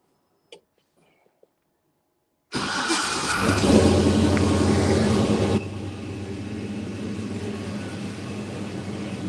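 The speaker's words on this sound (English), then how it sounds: "we getting ready to listen at this LS Swap 72 Chevelle crank up" An LS-swapped 1972 Chevrolet Chevelle engine cranks briefly, then catches and starts with a loud surge, settling into a steady deep idle rumble, close by and without talk.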